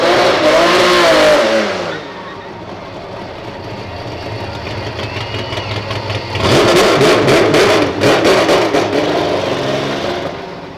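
A naturally aspirated Chevrolet Caravan races in a street drag, its engine loud and close as it revs hard, eases off, then climbs again through several sharp gear changes.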